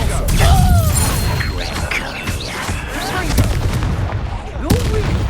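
Confringo and Expelliarmus spell blasts in the Hogwarts Legacy video game, a rapid series of loud booming impacts and crackling bursts over game music, with several sharp hits close together.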